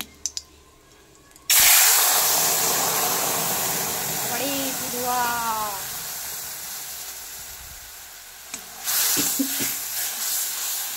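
A spice mix drops into hot oil already holding dried red chilli and cumin seeds, bursting into a loud, steady close sizzle and hiss that eases slightly before flaring up again, with a voice speaking briefly partway through.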